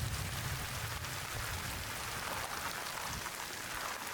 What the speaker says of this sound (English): See, he definitely gets a lot of rain on his face there.